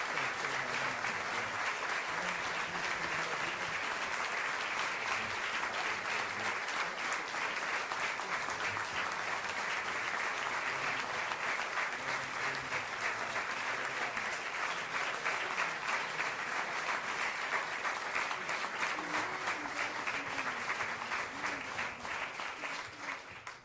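Sustained, dense applause from an audience filling an awards ceremony hall, honoring the winner of an excellence in public affairs award; steady and loud throughout, easing slightly only at the very end, with no talking.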